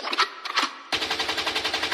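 A rapid burst of gunfire sound effects plays within a music track, first as a few separate hits and then as a fast, steady machine-gun-like rattle.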